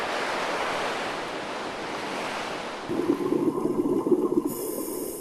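Ocean water surges and washes against an island in open sea, a broad steady roar of surf with wind buffeting the microphone, swelling into a rougher churning rush near the end.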